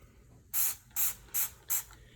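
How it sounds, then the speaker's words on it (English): Four short, sharp bursts of stain remover from a spray bottle, evenly spaced, close and clear against a quiet background. "All you have to do, spray it on these stains."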